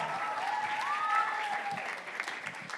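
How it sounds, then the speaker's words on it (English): A mosque community audience gives a round of applause during announcements, steady clapping with a faint whistle-like tone riding over it, moderately loud and continuous. "round of applause, round of applause"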